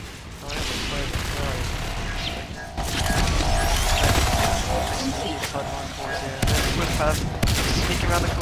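Shotguns and other weapons fire in a dense, loud barrage during a Natural Selection 2 match, with game mechanisms and explosions layered throughout and a commentator talking over it.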